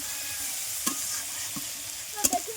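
Sliced onions with panch phoron spices fry in a pan with a steady sizzling hiss, broken by a few scraping stirs of a spoon, loudest near the end.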